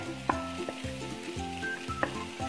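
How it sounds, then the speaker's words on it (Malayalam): Maggi noodles tossed with carrots and onions in a hot pan, sizzling steadily while a utensil scrapes and clacks against the metal in repeated strokes, with no voices. "എന്നിട്ട് എല്ലാം കൂടി നന്നായിട്ടൊന്ന് മിക്സാക്കി എടുക്കണം."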